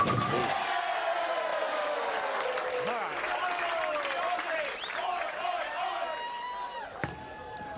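A bowling arena crowd at the 2024 PBA Tour Finals applauds and cheers loudly in a sustained wash of clapping. Whoops and shouts rise over it, a sharp bang lands near the end, and commentary voices sit over the crowd.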